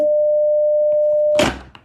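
Telephone tone from a hung-up call, a steady single-pitch electronic hum holding for over a second before a sharp click or clunk cuts it off, followed by a short faint knock; close, no talking.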